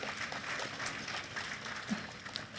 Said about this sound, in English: Please, a round of applause for His Excellency.